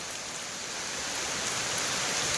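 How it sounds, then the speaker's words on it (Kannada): Heavy rain pours down steadily in the open, a dense unbroken hiss that stays loud and even throughout with no voices. "ಮಳೆನ ತಡೆಯೋಕ್ಕಾಗ್ದೇನೆ ಮಳೆ ಜೋರಾಗ್ಬಿಟ್ಟಿದೆ."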